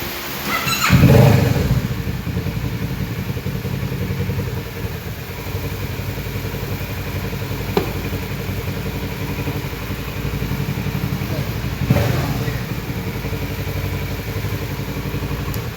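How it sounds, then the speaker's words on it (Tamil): Motorcycle engine started and left running: a burst at the start, then a steady, loud, close idle rumble with faint clatter throughout. "ஸோ வண்டியை 1க்கு 2 வாட்டி வந்துட்டு ஸ்டார்ட் பண்ணி பார்த்துட்டேன்."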